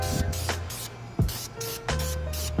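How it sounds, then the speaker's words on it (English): Spray can of red VHT caliper paint being applied to brake calipers in short light bursts, several close hissing sprays separated by brief gaps, with sharp clicks and rattles as each spray starts. "VHT caliper paint and just do light sprays"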